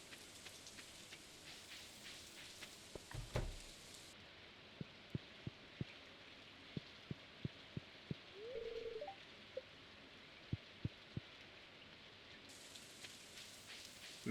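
Steady rain patter in the Stardew Valley video game, a soft even hiss running throughout with scattered light taps and drops over a quiet background.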